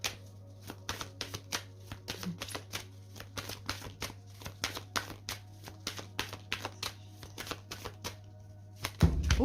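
Oracle cards are shuffled in a rapid, even run of crisp close slaps and riffles, cards flicking through the hands for several seconds before a louder clatter at the end as some jump out.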